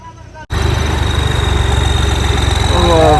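A tractor hitched to a trolley, at a village trolley competition, idles with a steady low rumble and a faint whine after a brief gap at the start, holding a constant, slightly rising throb throughout.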